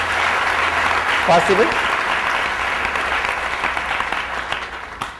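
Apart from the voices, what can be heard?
audience applause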